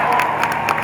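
Crowd noise at an anti-Brexit march for Europe, a broad steady roar of many voices with bursts of cheering and clapping swelling across the moment, loud and continuous without a clear speaking voice.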